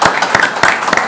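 Applause for a guest at a cycling club event, heard as loud, close, sparse claps with distinct individual hits rather than a dense roar.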